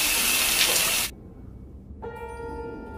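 Shower water runs in a loud, steady hiss, stops abruptly, and after a short pause a fainter tonal trickle of water follows.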